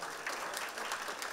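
An audience at a gathering for newly qualified insurance loss adjusters claps to welcome a speaker to the stage, a brief, moderately soft burst of applause at steady density.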